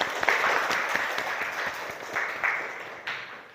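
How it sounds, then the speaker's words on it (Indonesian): Classroom applause for a student after a lesson on sorting algorithms, a moderate burst of clapping from a small group, sharper at the start and fading out over a few seconds. "tepuk tangan buat Anggi ya."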